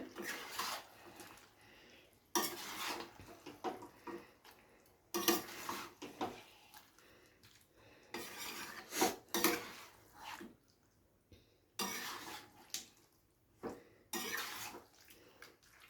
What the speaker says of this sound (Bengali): আবারও ঢাকনা চাপা দিয়ে দেবো।